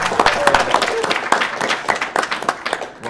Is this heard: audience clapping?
yes